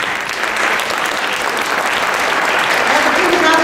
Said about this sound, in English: let's give another round of applause to our wonderful teachers